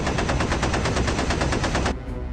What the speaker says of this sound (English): Lieutenant Hayakawa moves to the nose gun position. She fires away